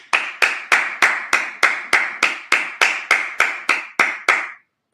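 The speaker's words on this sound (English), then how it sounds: "Clap it up." Steady rhythmic clapping, about thirteen sharp, evenly spaced claps in a row, loud and close, then stopping abruptly; no talking over it.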